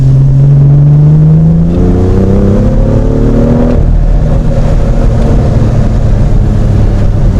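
A BMW M2 engine revs in the rain, its tone climbing steadily in pitch for a few seconds before settling into a loud, continuous broadband roar, close and with no talking.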